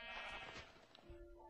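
A sheep in a video game gives a short, faint bleat over a low hum of background noise.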